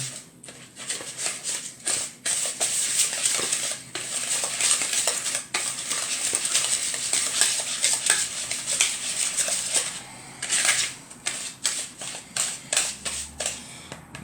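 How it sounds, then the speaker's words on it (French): A whisk scraping and clinking against a bowl as a preparation is mixed, a fast continuous rhythmic stirring with sharp metallic ticks, close and fairly loud, with brief pauses between bursts. "Et on vient mélanger."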